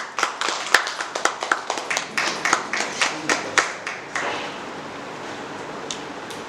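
A modest audience at a university seminar claps in a quick flurry of distinct, fairly close handclaps that thins out and fades after a few seconds.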